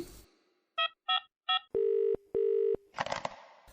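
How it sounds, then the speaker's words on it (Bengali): Three short keypad beeps followed by two long steady telephone tones, then a brief rustle, as a phone is dialed in a quiet room. "রিসেপশনে তাহলে একটা ফোন করি"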